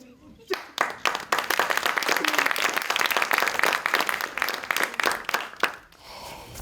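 Studio audience bursts into loud, sustained applause at the start of an Azerbaijani comedy sketch show, dense clapping running several seconds before tapering off abruptly.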